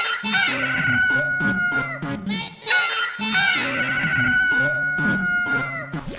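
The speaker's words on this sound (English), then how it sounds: "Talking to the hint chickens is an annoying sound." Repeated chicken clucks with bright squawky calls from hint chickens in the video game The Adventures of Cookie and Cream, over busy game music and effects, steady and fairly loud throughout.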